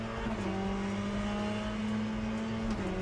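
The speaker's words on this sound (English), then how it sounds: "the problem, Mitchie, the engine sounds in this game are so bad for like knowing when to shift from the audio" Race car engine from a sim-racing video game, a steady sustained drone holding a constant pitch for the whole stretch with a slight shift near the end, loud and close with no talk.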